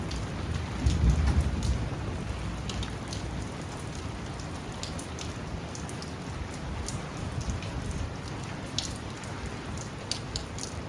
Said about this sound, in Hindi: उस दिन रात में बहुत तेज तूफान और बारिश हुई